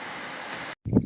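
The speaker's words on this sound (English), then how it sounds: "So happy it's raining during the day again." Steady daytime rain falls as an even, close hiss of drops for most of a second, then cuts off briefly before a louder burst returns.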